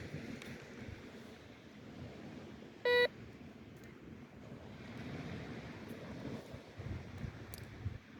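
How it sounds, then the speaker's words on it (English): Metal detector on a windy Florida beach at Indian Shores gives one short, sharp electronic beep partway through, heard close over steady wind and surf noise. "That beep was higher. It was a false reading, probably."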